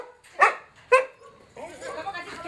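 At an animal rescue for stray dogs, a dog gives two sharp, close barks followed by softer whining yips, with voices faintly mixed in.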